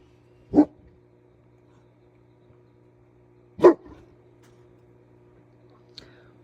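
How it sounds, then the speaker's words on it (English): Dogs bark nearby, two short sharp barks a few seconds apart, with a faint third sound near the end over a low steady indoor hum. "You can hear the dogs bark a second."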